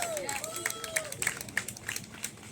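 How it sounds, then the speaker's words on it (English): A crowd at an outdoor Hispanic Heritage Month peace rally in a park claps and cheers, with scattered whoops and voices, and a few sharper shouts rising above the steady clatter of applause. "Give her a round of applause."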